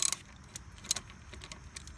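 A ratchet wrench cracks loose a 12mm brake caliper bolt on a Honda Goldwing motorcycle, giving a few sharp metallic clicks at the start and scattered ratchet ticks after, close and fairly quiet.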